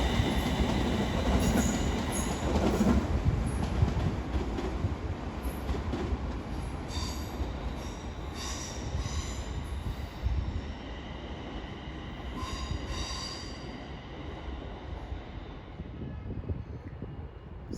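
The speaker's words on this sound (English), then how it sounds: "will be a terminating Avanti West Coast service from Liverpool Lime Street" An Avanti West Coast train from Liverpool Lime Street pulls into London Euston on the West Coast Main Line, a steady heavy rumble with wheel squeals and brake hiss rising over the station noise, close and continuous.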